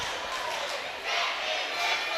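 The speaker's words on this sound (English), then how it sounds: "as you can probably hear from their boos in the background" A high school varsity boys' basketball crowd boos a call during a free throw, a steady, dense roar of many voices that swells slightly partway through and holds loud to the end.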